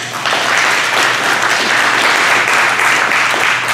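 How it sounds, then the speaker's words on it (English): Sustained applause from a church congregation honoring the pastor's wife during a Sunday sermon, a dense steady wash of clapping that fills the room evenly from start to finish. "Can we give the wife a hand?"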